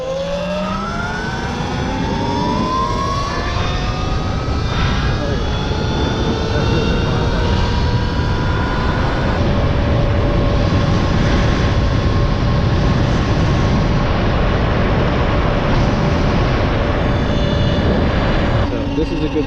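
A Talaria XXX electric dirt bike with new tires and an O-ringless chain on a test ride: a continuous, loud electric motor whine that climbs in pitch as it accelerates, over steady wind rush and road noise.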